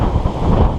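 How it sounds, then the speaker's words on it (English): Strong outdoor wind buffets the microphone in a brief, loud, low rumbling roar with no voices. "Really, really windy."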